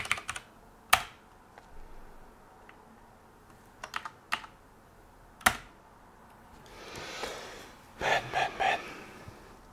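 Someone types on a dirty computer keyboard, producing sparse, fairly quiet clicks spread out in uneven bursts, with a quick cluster of keystrokes near the end. Soft breathing and shuffling can be heard between the taps.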